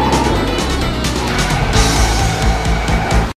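Cars roar and crash through a stunt-filled chase scene in a film, dense and loud throughout, with engines and impacts layered over a music-like bed before the sound cuts off abruptly.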